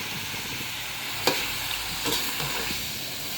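Chicken sizzling in a hot, crowded wok as it is stirred, a steady frying hiss with a few sharp scrapes and clatters of the spatula.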